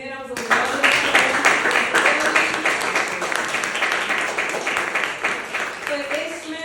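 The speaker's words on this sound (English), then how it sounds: "Keep clapping for Jameer." An audience claps steadily for several seconds, with a brief voice just before it starts and another as it fades.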